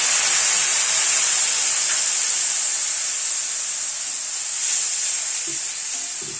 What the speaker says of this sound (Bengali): মশলার পেস্ট যেটা বানিয়ে রেখেছিলাম তার মধ্যে একটু জল দিয়ে, গরম জল দিয়ে দিচ্ছি।